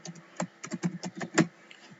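Typing on a computer keyboard while working in Excel, a quick run of about a dozen light, close key clicks in an uneven rhythm.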